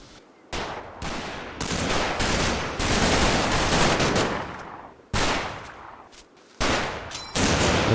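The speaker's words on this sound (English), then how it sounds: "Machine gun is just being set up." Machine-gun fire from the Combat Mission Market Garden war game roars in long, loud bursts with brief pauses between them, close and dense, with no voices.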